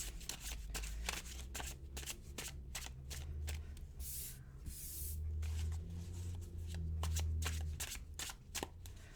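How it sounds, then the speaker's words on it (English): A deck of cards is shuffled repeatedly up close, with quick riffling bursts and soft taps, and no talking. "so I'm just going to shuffle, see what jumps out"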